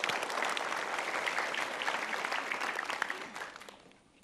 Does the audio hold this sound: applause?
yes